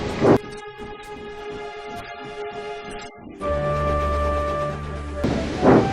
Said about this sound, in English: slowly but surely the big diesel began to move